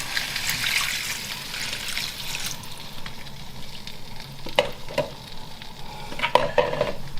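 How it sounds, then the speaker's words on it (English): Beef rogan josh is stirred in a pan after cold tap water is added, giving a continuous sizzle and watery bubbling with scraping and clinking spoon strokes against the pan. "stir one more time only"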